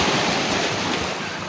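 Sea waves slap against a small wooden fishing boat amid strong wind, a dense, loud, continuous wash of surf and gusting noise with no talk.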